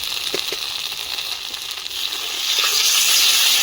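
A ginger, garlic and cumin paste fries with onion and chilli in a pan, a bright close sizzle with a few small clinks that swells louder toward the end.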